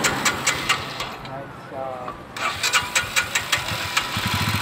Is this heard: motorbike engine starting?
yes